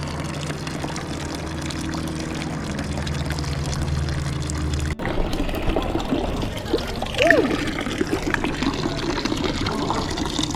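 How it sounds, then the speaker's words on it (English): Water runs from a public drinking fountain in Appenzell, Switzerland, filling a water bottle, a close trickling pour with a short splashy burst part way through, over faint outdoor background. "they have these like drinking fountains all over. You just fill your water bottle"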